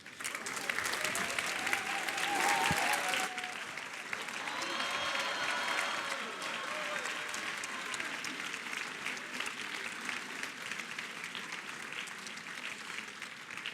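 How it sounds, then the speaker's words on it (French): Audience applause fills a conference hall at a business school event as a couple is called onstage, steady clapping throughout with a brief voice over it early on, gradually thinning toward the end. "Cyril, si vous voulez bien rejoindre sur scène pour qu'on vous applaudisse tous les deux."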